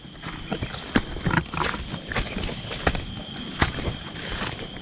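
Sharp hoof-like knocks land irregularly against a steady outdoor hum, a horse moving nearby with a few louder strikes standing out.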